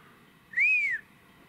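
One short, clear whistle from a person, rising and then falling in pitch, sounds alone over a quiet outdoor background.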